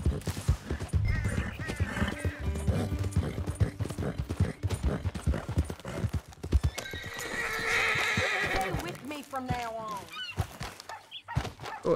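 Horse hooves clip-clop steadily in Red Dead Redemption 2, with a loud whinny around the middle and louder trotting and game sounds throughout.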